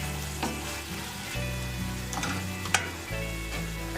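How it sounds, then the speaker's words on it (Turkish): Chicken sizzles loudly in a hot pan after a few spoonfuls of water go in, a steady crackling hiss broken by sharp clinks and scraping stirs, with no talking. "İki üç yemek kaşığı su ekliyorum"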